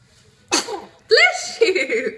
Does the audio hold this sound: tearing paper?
no